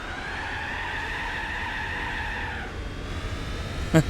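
Racing car engine from a Chevelle in Gran Turismo 4, a steady high-pitched drone that holds loudly, drops in tone partway through, and ends with a brief sharp click.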